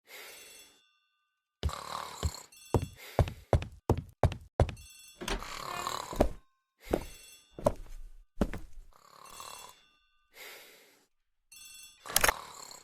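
A telephone rings in a hall in a radio drama, heard as a series of sharp, bright bell bursts with short pauses between them, fairly close and alone with no talk over it.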